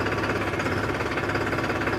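A tractor engine with oil-immersed multi-plate disc brakes runs at a steady, loud idle, its dense continuous rumble and rhythmic knock filling the whole stretch with no voices.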